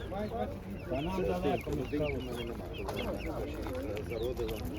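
Several young chickens cluck and chatter close by at a livestock market, with a person speaking over them.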